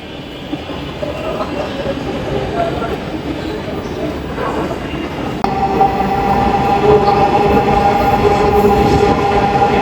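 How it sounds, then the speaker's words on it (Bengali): A Dhaka metro rail train carries passengers toward Agargaon, its loud rumbling ride and rail noise continuous throughout, with a sharper metallic tone and rising intensity in the second half, and voices talking underneath. "আমরা এখন অলমোস্ট মেট্রো রেলের থেকে নেমে গেছি আগারগাঁওয়ে"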